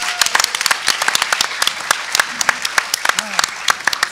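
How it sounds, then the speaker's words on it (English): Audience applauding a panel at an MLK tribute event, sharp individual claps standing out distinctly against a thinner room, with some voices or murmurs mixed in. "Final round of applause for our illustrious panel."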